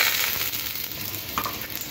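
Potato pieces fry in hot oil in a pan with a dense, steady sizzle and crackle, heard up close with no voices.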